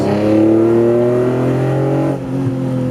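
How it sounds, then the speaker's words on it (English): A BMW E46 M3 inline-six with velocity stacks revs close by, giving a strong, steady, harmonic induction wail that holds and then drops slightly near the end. "we have the Veloctiy stacks, which add an immense amount of induction noise"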